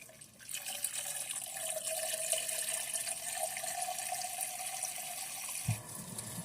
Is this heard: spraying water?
yes